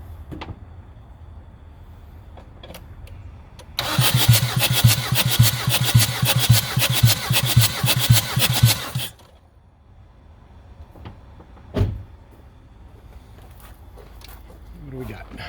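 A Jeep Liberty CRD diesel engine cranks over with the injectors out for a compression test, a loud rhythmic chugging starter run of about five seconds between quiet stretches, followed by a single sharp clunk.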